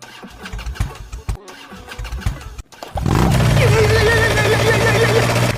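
An engine cranks and catches, then settles into a steady, loud running hum; before it, irregular clattering and handling noises.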